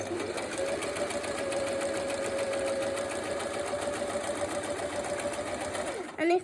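A Hobbycraft sewing machine running a straight stitch, a steady fast mechanical whirr and needle chatter that holds evenly for several seconds before stopping with a brief clunk at the end.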